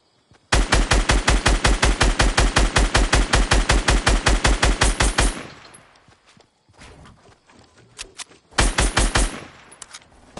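Rapid automatic gunfire in Fortnite, a long loud burst of evenly spaced shots, then a quieter gap with scattered single shots, followed by another short rapid burst.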